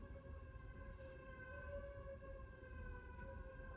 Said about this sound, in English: Got sirens going off. I don't know if you can hear that.